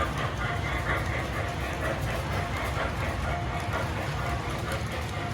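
A model freight train, an MTH 2.0 Pennsylvania Railroad set pulling many freight cars on an upper layout loop, rumbles steadily along its track with a constant low roar and faint clicking, close by and unbroken throughout.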